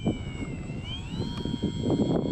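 Faint whine of a power glider's engine in flight, a thin steady tone that rises in pitch as the throttle changes, heard from a distance under wind buffeting.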